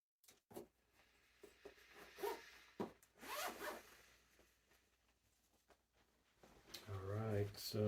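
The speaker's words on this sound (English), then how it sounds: "I need to take the little zip tie thing off." A plastic zip tie is worked off a clothing zipper decorated with Splatoon-style inkling and octoling pulls, giving close, scratchy rubbing and zipping rasps in short bursts with quiet gaps, growing busier toward the end.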